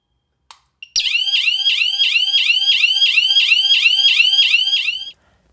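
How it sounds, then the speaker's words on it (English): Fortress S02 wireless panic button setting off the security alarm: a loud, rapidly repeating electronic warble with a steady pulsing rhythm, preceded by a couple of faint clicks, sounding alone close up for about four seconds before cutting off. "will set off the alarm immediately when pressed"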